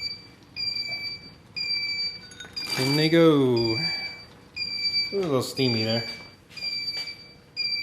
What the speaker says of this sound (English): let's kill the alarm